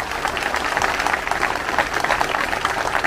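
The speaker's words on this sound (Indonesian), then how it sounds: "Tepuk tangan lagi untuk kita semua." A crowd at a cadet ceremony for Taruna PPI Madiun at Monumen Kresek, Madiun, claps in steady, dense applause for about three seconds, close and fairly loud.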